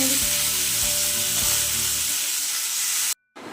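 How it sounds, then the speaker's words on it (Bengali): Potatoes frying in a pan on a home stove, a steady bright sizzle with a low hum underneath that fades, then a brief cut of silence before the sizzle returns. "আলু ভাজা বসাচ্ছি"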